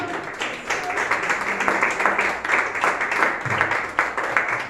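A church congregation claps in applause during a worship service, a continuous patter of many hands at moderate volume, with a voice speaking over it.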